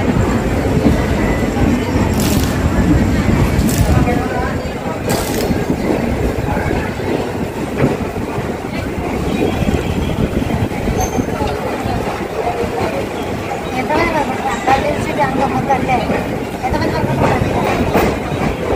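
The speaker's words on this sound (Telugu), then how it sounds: "Venkatadri super fast express Renigunta railway station నుండి డిపార్చర్ చూడండి" The Venkatadri Superfast Express pulls out of Renigunta railway station with a continuous rumble and clickety-clack of wheels over rail joints, loud and close, while voices talk over it.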